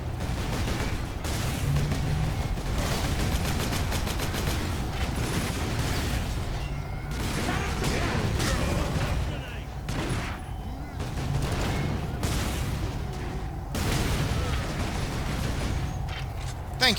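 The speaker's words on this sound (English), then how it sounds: "Oh, that's a plasma cannon." Plasma cannon blasts in the Warhammer 40k Space Marine video game, heavy booming shots repeating amid a dense, loud battle din of gunfire and explosions, with voices speaking over it.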